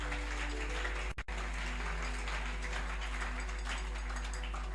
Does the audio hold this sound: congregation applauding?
yes